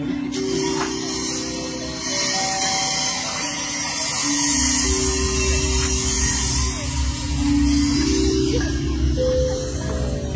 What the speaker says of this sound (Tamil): செம்பு கம்பி சவுண்டு,